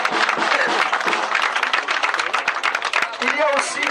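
An audience at the Parasol d'or 2009 award evening applauds loudly, dense continuous clapping from many hands, with a voice briefly emerging near the end.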